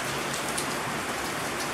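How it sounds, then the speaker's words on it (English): Heavy rain falls at night in Bhutan: a close, dense, steady patter of drops on surfaces, continuous and loud with no talking. "It's raining right now."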